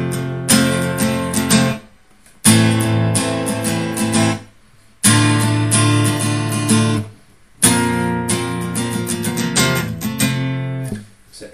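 An acoustic guitar plays the breaks from a song in an original acoustic arrangement: four close, solo strummed phrases, each cut off by a short pause, revolving around the same chords.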